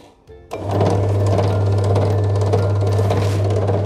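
An HMX-H02 electric noodle maker set to its 6 mm cutter switches on after a brief quiet moment, then runs with a loud, steady motor hum that holds unbroken to the end.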